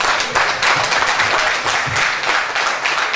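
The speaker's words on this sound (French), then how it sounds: "Ah mais ça s'applaudit mesdames, messieurs." A crowd at a live music show applauds loudly and steadily, with dense clapping that carries on through the whole stretch.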